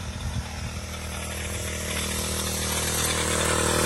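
A petrol chainsaw drones at a mountain hay harvest, a steady buzzing engine note that stays close and loud and rises slightly as it runs.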